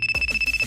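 A mobile phone ringtone chirps, a call coming in from Sakuya, a steady high electronic tone pulsing rapidly in a short, loud, close burst.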